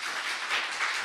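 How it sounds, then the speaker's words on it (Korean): Seminar audience applauding after a lecture on inter-Korean health care, a dense wash of many hands clapping together, steady and fairly loud for about a second. "큰 박수로"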